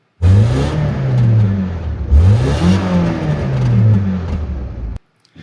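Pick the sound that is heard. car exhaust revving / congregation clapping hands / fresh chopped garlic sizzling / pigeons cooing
car exhaust revving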